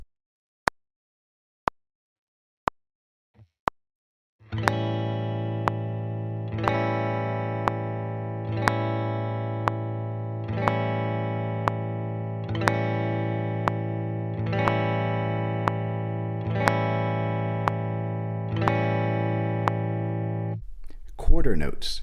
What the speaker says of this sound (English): Half notes last for 2 beats. Let's listen to an example.